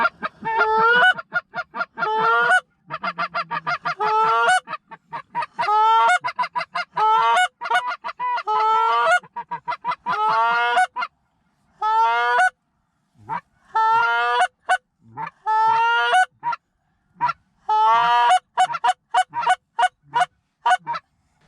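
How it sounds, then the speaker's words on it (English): A flock of geese flies low over a tree line during early goose season in New York, honking loudly and close in repeated bursts of overlapping calls. "these geese just came right over the tree lines"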